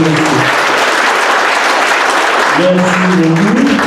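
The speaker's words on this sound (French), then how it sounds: "pour que nous puissions tous applaudir quand même le couple" Wedding guests at a ceremony applaud the couple in a dense, loud, continuous burst of clapping, with voices rising faintly beneath it toward the end.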